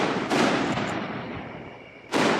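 Town fireworks heard from a campground in Ohio: two sharp, loud bursts, the first ringing out into a long fading rumble before the second blast hits near the end, no talking.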